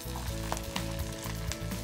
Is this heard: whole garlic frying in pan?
yes